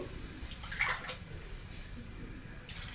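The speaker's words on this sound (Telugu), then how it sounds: "ఇప్పుడు నేను టోటల్ 3 గ్లాస్ ఆఫ్ వాటర్ తీసుకుంటున్నాను." A glass of water poured into rice in a pot for prawn biryani, a brief gushing splash near the start, then a quiet watery wash, no talking.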